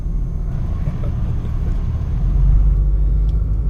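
McLaren Mercedes SLR accelerating away, a steady loud low engine rumble that swells slightly in the second half, heard from inside the car with no talking.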